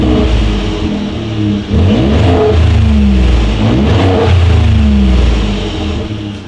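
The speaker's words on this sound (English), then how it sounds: "every single trim level is going to come with a single exhaust setup. So as always, you guys, here is that exhaust clip." A 2018 Ford F-150 pickup with a single exhaust revs hard, the engine note climbing and falling through repeated loud, steady throttle blips with no talking.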